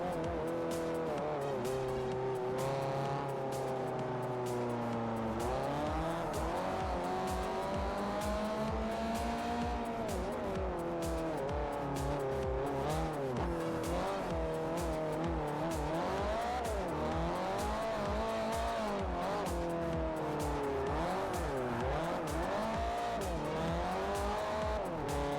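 R3-class race car in Forza Motorsport 4 on Xbox 360, engine revving loud and continuous through repeated gear shifts, pitch sweeping up and down, with intermittent tire squeal and skidding.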